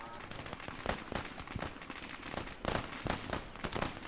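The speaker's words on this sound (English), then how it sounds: "Oh, there's 2 machine guns." Gunfire from MG34 machine guns in the Finest Hour video game, Battle of Arras, with repeated sharp bursts and scattered shots overlapping at steady battle loudness, while faint voices sit underneath.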